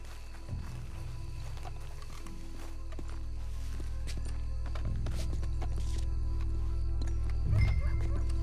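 Horse hooves clop and shuffle over a steady low rumble, with a couple of heavier stomps and snorts near the start and end, in the video game Red Dead Redemption 2.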